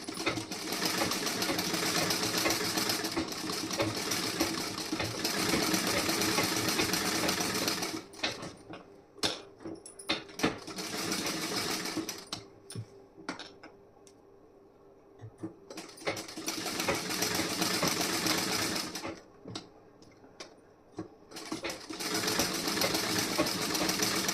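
A home sewing machine runs stitch after stitch close to the edge of a blouse seam, a loud steady whirring rattle broken by short pauses and restarts.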